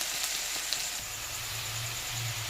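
Onion sautés in a pan with black cumin, making a quiet, even sizzle with a few faint clicks of utensils and a low hum underneath. Nobody speaks.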